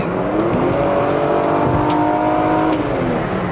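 Mercedes W124 station wagon engine pulling hard while driving, a loud steady drone with rising gear whine heard from inside the car, no talk.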